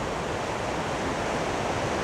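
Water pouring over rocks at the Great Falls of the Potomac River, a dense, continuous rushing roar with no letup and no voices.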